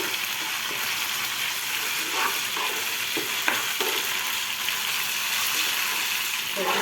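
Ginger paste fries in a pan for a chicken masala curry, a steady broadband sizzle with a few stirring scrapes and clinks throughout, close and constant.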